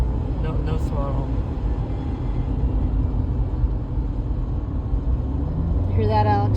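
A 2015 Subaru Outback coasting downhill with no throttle, its worn rear differential giving a continuous low road-and-drivetrain rumble inside the cabin.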